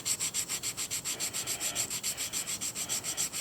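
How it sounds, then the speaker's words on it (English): Folded sandpaper is rubbed back and forth across a fossil Scutillaster major echinoid in steady, even strokes, about six per second, a soft, close scratching with no voices. "try to get that edge of that sandpaper that you got folded over"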